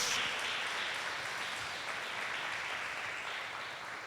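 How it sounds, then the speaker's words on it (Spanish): A church congregation applauds, giving a steady wash of clapping at moderate distance that holds evenly for a few seconds with no talk over it. "Yo creo que tú le debes dar un fuerte aplauso a Dios"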